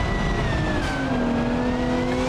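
A Formula Three race car engine heard on board, a loud steady high-pitched drone with the pitch sliding as the car shifts and accelerates, with no talk.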